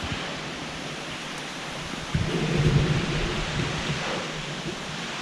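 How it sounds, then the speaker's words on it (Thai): Rain and wind in a mountain forest make a dense, steady hiss, and a low rumble swells in partway through and lingers. No voices are heard. "โอ้ฝนลม"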